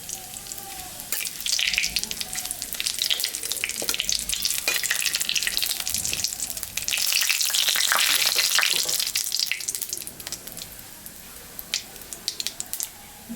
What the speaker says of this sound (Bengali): জিরা, শুকনো লঙ্কা আর গরম মশলা আমি সম্বরা দিয়ে দিলাম।